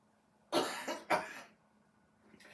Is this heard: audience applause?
no